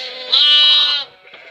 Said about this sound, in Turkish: Arkadaşlar burada da kuzularımız var görmüş olduğunuz gibi.